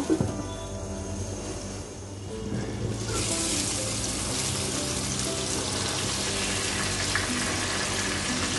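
Food frying under a lid in a covered pan for a Bangladeshi lunch platter, a dense rain-like sizzle that grows louder partway through and then holds steady to the end.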